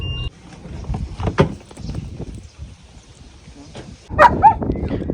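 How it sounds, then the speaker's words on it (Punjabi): A German Shepherd gives a few short yips and whimpers near the end, after a stretch of low rumbling movement and scattered knocks inside a Mahindra Scorpio. "ਆ ਆਪਣੀ ਬੈਲਾ ਤੇ ਬਈ ਆ ਡੌਗ ਤੇ ਆ ਜਰਮਨ ਦਾ ਨਾਮ ਆ ਕਾਰਤੂਸ"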